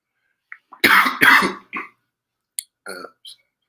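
A pair of loud, raspy coughs up close, followed by a few smaller clicks and throaty sounds as the person settles.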